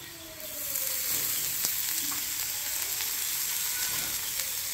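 Onion, turmeric and red amaranth fry together in a pan, an even sizzle that swells after the first second and holds steady, with a few brief stirring clicks.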